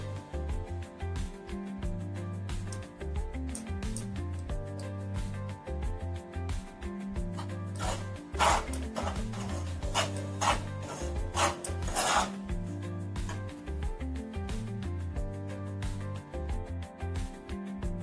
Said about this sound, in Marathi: मंद गॅसवर छान भाजून घ्यायचं